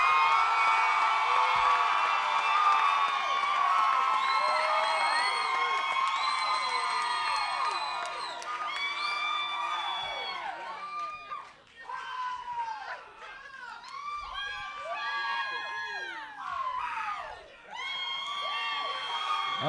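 A crowd at a realtor competition night cheers and whoops loudly for a contestant pair, then the noise thins into scattered shouts and high calls that rise again near the end.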